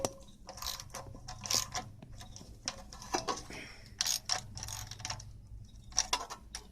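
A ratchet works at seized bolts on a Snapper carburetor, giving close, uneven bursts of rapid clicking with short pauses between strokes, with no talking.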